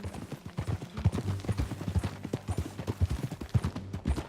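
Horse hooves clip-clop in a steady walking rhythm across the Red Dead Redemption 2 game world. The beats are distinct and moderately close, with no speech over them.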